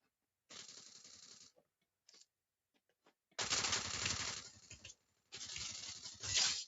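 Bursts of rapid automatic gunfire from an MP5 submachine gun in the shooting game Free Fire, with a long sustained burst in the middle and another near the end, close and loud, separated by short gaps and a few stray clicks.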